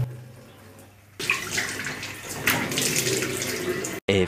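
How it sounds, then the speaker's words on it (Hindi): Tap water runs and splashes loudly and steadily while someone washes their face at a sink, starting abruptly after a quiet moment and cutting off briefly near the end. "अब मुंह को धो लेता हूँ।"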